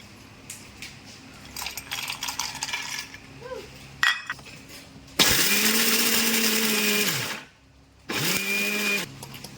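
Mixer grinder crushing cashew nuts, heard as short bursts followed by two longer loud whirring runs with a brief pause between them, and small clinks and rattles before the motor starts.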